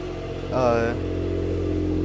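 A Suzuki Cappuccino idles with a low, rumbling growl from its aftermarket exhaust, briefly revving louder for a moment before settling back to a steady drone.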